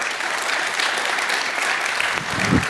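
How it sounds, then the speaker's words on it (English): Audience at a DENOG16 networking conference applauding as a speaker is welcomed to the stage, dense steady clapping from a crowd, sustained and fairly loud throughout with no talking. "Please give a warm applause to Ulrich."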